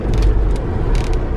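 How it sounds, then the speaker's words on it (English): Steady roar of traffic from a nearby motorway, a constant broadband rumble with passing vehicles swelling in and out. "There's obviously a big motorway behind it because you can hear all the cars."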